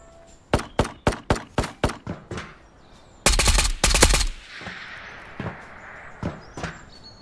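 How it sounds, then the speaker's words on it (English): Video game gunfire in Ghosts of Tabor: a quick string of seven single shots, then a dense loud burst of automatic fire, followed by scattered fainter shots and echoes. "He's only shooting me."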